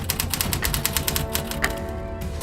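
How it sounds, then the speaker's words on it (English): A chef on a dessert cooking competition types on a typewriter, a rapid even run of crisp key strikes, close and clear, alone without talk. "Is that a typewriter?"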